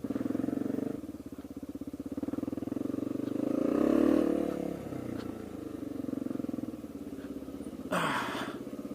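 A long-distance touring motorcycle running close by, a steady throbbing engine idle that swells briefly in the middle, with a short burst of wind or clatter near the end.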